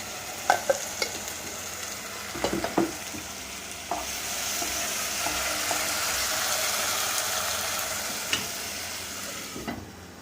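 Steady sizzling of pepper chicken gravy ingredients sautéing in hot oil, with a few sharp clinks and scrapes of a utensil stirring the pan.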